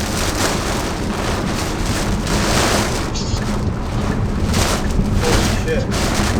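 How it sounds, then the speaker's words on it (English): Steady, dense roar of heavy rain pouring down close by during a storm chase, with gusty rumbles of wind buffeting the microphone throughout. "flooding in the rain"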